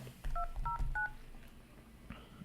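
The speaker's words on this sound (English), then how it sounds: "Sorry, I don't have an automatic dialer, so I gotta do it the old-fashioned way." Telephone keypad dialed by hand, each key giving a short electronic tone: several quick beeps in an uneven rhythm over a low background rumble, with one more tone near the end.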